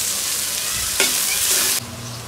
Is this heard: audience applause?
no